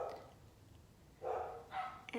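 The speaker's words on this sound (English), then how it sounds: "so they wouldn't bark, but you can still hear them" Muffled barks from dogs shut in another room, two short bursts in quick succession, faint and distant against a quiet indoor background.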